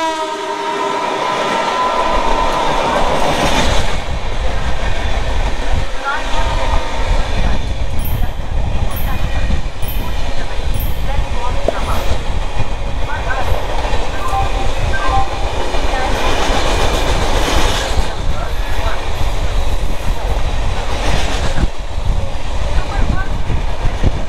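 Netaji Express train running at Shikohabad Junction, a loud continuous rumble with rattling wagons and intermittent horn or whistle tones, with voices faintly underneath.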